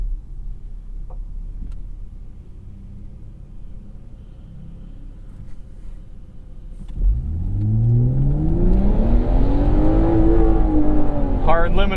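A 2015.5 Volvo V60 T6 Polestar idling low and rumbling inside the cabin, then surging into a hard rev that climbs sharply in pitch and bounces off the rev limiter in quick stutters, loud and close.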